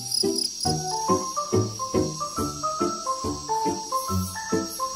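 A cricket keeps up a thin, continuous high chirping trill in the background, largely masked by a louder melodic tune of plucked, stepping notes playing over it.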